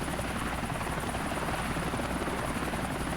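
Helicopter flying in GTA IV, a dense, constant rotor wash and engine roar filling the whole stretch at a steady, close level with no pauses.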